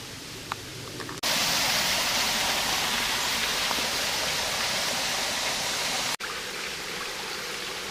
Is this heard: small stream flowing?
yes